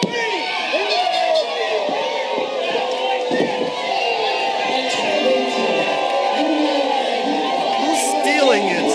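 A wrestling crowd reacts angrily at a pro wrestling show, with a dense roar of shouting and jeering voices throughout and a commentator talking over it.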